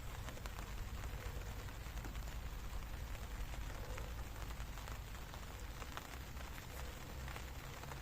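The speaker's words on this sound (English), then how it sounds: "The rain's just started." Rain falls beside a small river in the UK while coarse fishing, a soft, even patter of drops that stays faint and steady throughout with no voices.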